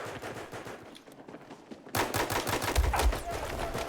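Rapid bursts of gunfire in a video game shooter, sparse at first and then a loud, dense run of repeated shots with a heavy low impact near the end.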